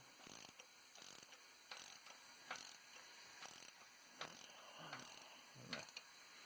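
A Tim's Tool valve spring compressor is cranked on an LT1 engine, giving about eight close, evenly spaced bursts of metallic ratcheting clicks with quiet gaps between them.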